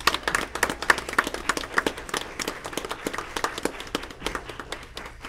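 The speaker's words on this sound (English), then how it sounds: "could we stand up and applaud her since she is leaving" Warm applause at a school board meeting for a departing staff member, a room of people clapping steadily and fairly close, with uneven bursts of individual claps running the whole length.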